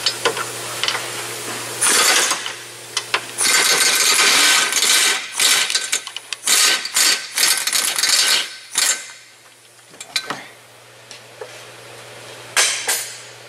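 Pneumatic impact gun loosening suspension bolts on a 2007-2012 Hyundai Santa Fe CM during a lower ball joint replacement: repeated loud rattling bursts of varying length with short pauses between, close by, over a low steady hum.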